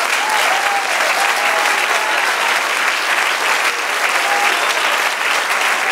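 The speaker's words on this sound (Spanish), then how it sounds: "Denle otro aplauso al Señor" A church congregation gives another round of strong, steady applause during a pastor's sermon, the clapping dense and continuous, with faint vocal exclamations rising over it.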